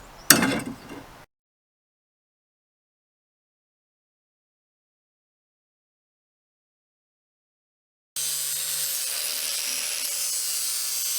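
Wooden trailer bunk boards being cut with a saw for a skiff trailer rebuild, a short rough burst at the start, then a long silence and a steady loud power saw run to the end.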